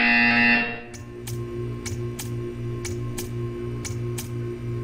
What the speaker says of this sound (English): You will hear a buzzer. When you hear the buzzer, stare at the art.